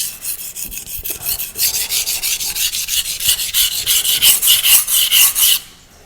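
A blade is stroked back and forth across a 200 grit ceramic whetstone, a steady run of about fifteen rhythmic rasping passes, close and clear, with no talking.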